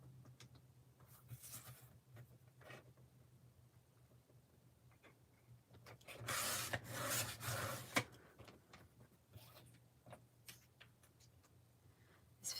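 A Fiskars rotary paper trimmer slices cardstock, giving a faint scraping rasp that builds into one longer, louder cutting stroke midway, surrounded by soft ticks and paper rustles over a low background hum.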